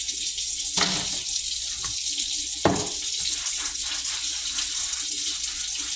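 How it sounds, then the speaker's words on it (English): Running tap water splashes steadily into a kitchen sink while a cutting board and knife are washed, with two brief clatters of the board or utensils standing out against the continuous spray. "wash this cutting board and knife"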